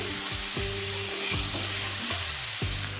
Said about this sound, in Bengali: এবার এই লবণ আর হলুদ একটু আমলকির সঙ্গে ভালো করে মিশিয়ে নিচ্ছি